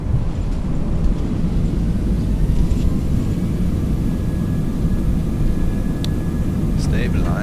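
Airbus A321 engines spooling up at 50% throttle in a flight simulator at Palma de Mallorca airport, a loud continuous low roar with rumble, steady throughout, with faint brief tones near the end.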